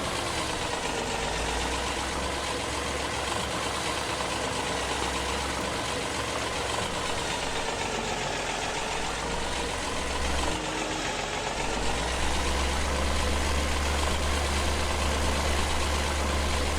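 A small tractor in Farming Simulator 17 idles with a steady, low, rumbling and knocking drone that continues unbroken and fairly loud, with no talking over it.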